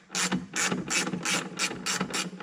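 A ratchet wrench clicks rapidly in repeated bursts, about eight strokes in a steady rhythm, loud and close, while screws holding the battery in a 2003 Mini Cooper S are backed out.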